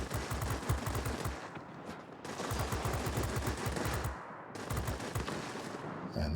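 The guns of a Bell XP-77 fighter in World of Warplanes fire in rapid bursts, dense chattering rattles broken by two brief pauses, loud over the engine drone.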